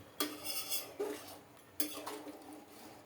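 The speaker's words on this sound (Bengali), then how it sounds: "এবার ভালো করে নেড়ে ছেড়ে" Duck curry being stirred in a pot with a metal spoon, giving a few sharp clinks and scrapes against the pot in separate bursts, close and fairly quiet.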